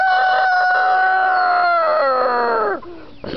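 Easter Egger rooster gives a single loud, close crow, a long sustained call that falls off sharply at the end, then a short trailing sound.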